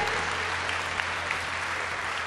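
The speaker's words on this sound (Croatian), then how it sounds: "aplauzi za njih" Steady, dense applause from a concert audience honoring the backing vocalists, sustained at even loudness throughout with no voices over it.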